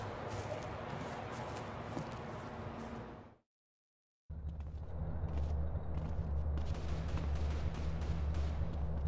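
Dense gunfire and combat noise from GTA: San Andreas roar continuously, cut by a brief moment of silence before the loud barrage of shots and thuds resumes.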